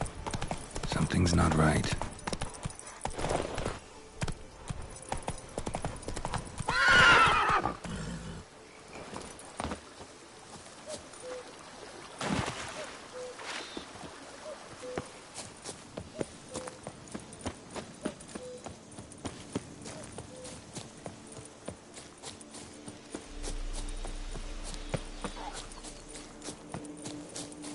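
Roach, the horse in The Witcher 3, walks with steady clip-clopping hooves near and clear, broken by brief louder bursts, while someone speaks now and then over the footfalls.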